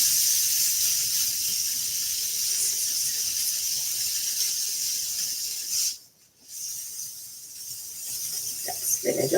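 Food searing in a hot pan gives a loud, steady hiss and sizzle that briefly drops away for a moment and then comes back.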